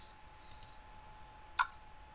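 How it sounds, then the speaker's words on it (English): A computer mouse clicks twice in quick succession, then once more a moment later, sharp and close against a quiet room with a faint steady electronic hum. "So click next."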